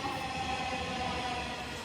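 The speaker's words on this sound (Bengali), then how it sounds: "এই যে ট্রেনটা আমরা যেতে না যেতেই ছেড়ে দিয়েছিল" A metro train at a station produces a continuous low rumble with a steady mechanical hum, even and fairly faint throughout the short stretch.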